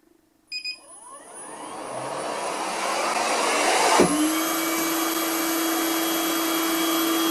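A Cecotec Winbot 870 window-cleaning robot switches on with a couple of short beeps, then its suction motor whines up into a loud, steady whirring drone, with a sharp shift in pitch partway through before it settles into a constant hum.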